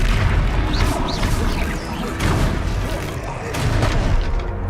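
Fiery Confringo blast spells explode in combat in Hogwarts Legacy, loud booming bursts with crashing impacts repeating over a few seconds while a voice talks beneath the din.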